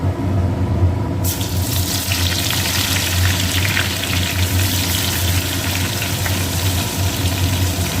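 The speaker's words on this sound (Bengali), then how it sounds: "কিছুটা পেঁয়াজ বেরেস্তার জন্য ভেজে নেব" Onion rings frying in oil to make beresta for biryani: a steady, dense sizzling hiss that starts abruptly after about a second and keeps going without pause over a low background hum.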